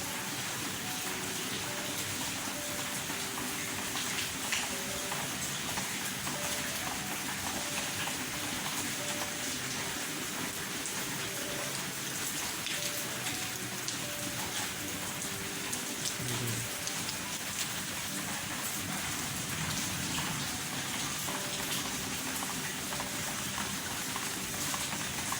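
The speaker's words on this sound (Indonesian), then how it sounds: "Ini lagi hujan." Steady rain pouring down at a house in Meruya Selatan on a November afternoon, a dense even hiss of drops striking surfaces, constant and unbroken throughout, with no voices.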